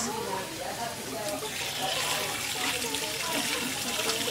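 A tap runs and splashes as hands are rinsed at a school event, water pattering steadily underneath while children and adults talk nearby.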